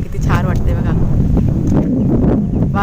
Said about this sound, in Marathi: वारा पण सुटला आहे भरपूर